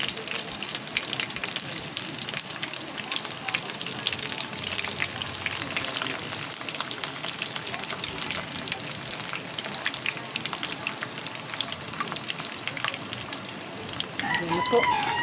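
Crispy chicken pieces frying in hot oil in a home kitchen, a steady dense sizzle and crackle that runs loud and unbroken, with a sharper spattering burst near the end.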